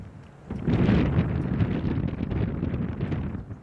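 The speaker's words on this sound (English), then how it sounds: "And the wind just ripping right as John's trying to putt" Strong wind gusting across an outdoor golf course during a disc golf round, a loud rushing roar buffeting the microphone after a brief quieter moment, steady and broadband with no talk.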